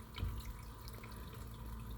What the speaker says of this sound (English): you notice the sound of water